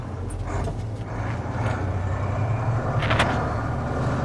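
A 29,000 lb Unimog 6x6 truck rumbles offroad with a low, steady drone and a few faint knocks and rattles.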